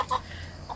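Bielefelder and Malines chickens in a coop giving two short, soft clucks, one right at the start and another near the end of a brief quiet moment.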